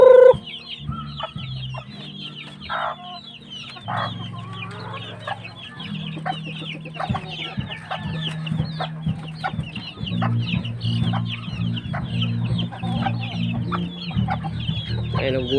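A flock of hungry backyard chickens on a rural Philippine farm clucks noisily and continuously before feeding, a busy overlapping chatter of short calls with a louder squawk at the very start.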